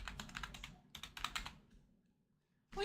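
Quick bursts of typing on a computer keyboard, close and crisp, with clustered key clicks, a brief pause, and then silence before a final thump.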